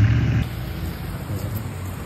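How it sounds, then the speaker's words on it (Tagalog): Rain falls steadily outdoors while people walk to school, a soft, even hiss of drops with a brief louder rumble at the start. "Kung kailan umuulan guys"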